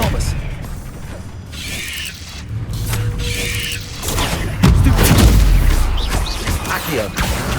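Spell combat in the Hogwarts Legacy video game, with an Expelliarmus disarming spell among a flurry of casts: bursts of magical whooshes, booms and crashes stacked on a game soundtrack, loud and busy throughout, with a louder impact midway.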